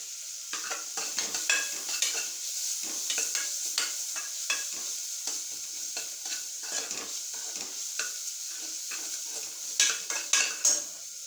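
Ginger garlic paste fries in a little coconut oil while being stirred, giving a steady sizzle with frequent scraping clinks of a utensil against the pan and no voices.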